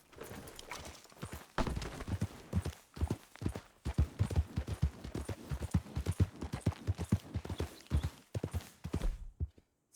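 Horse hooves clip-clopping in Red Dead Redemption 2, a steady walking rhythm of close, distinct hoof strikes on hard ground, lasting throughout with little else over it.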